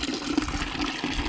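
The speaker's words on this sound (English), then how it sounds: "give me a minute while I fill up this water bucket for them." Water running from a faucet into a bucket outdoors, a short steady gushing splash heard alone and fairly close.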